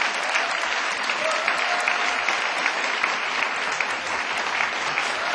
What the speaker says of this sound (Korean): 큰 박수로 받아주십시오